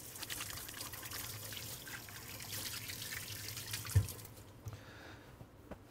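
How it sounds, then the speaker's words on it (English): Water runs from a tap during handwashing in a kitchen, a soft steady hiss and trickle close by, with a small knock near the end as the flow stops and the room goes quieter. "wash my hands."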